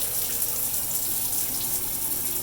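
Water sprays steadily from a brand-new Darsco shower head with partly clogged pinholes, a continuous close hiss that stays even and unbroken from start to end, with no talking.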